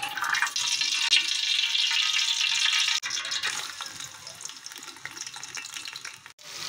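A cup of oil goes into a cooking pot for chicken korma, giving a bright, close hiss and splashy pour that runs steadily, breaks off sharply, then continues more softly in spurts.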